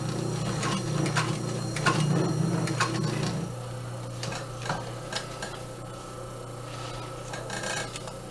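A sewing machine stitches a zipper with heavyweight multi-purpose thread, giving a close, quick ticking hum that runs for a few seconds, drops to softer taps, then picks up again.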